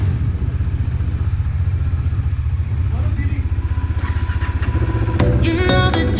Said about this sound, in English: morning we are going to warm up our bikes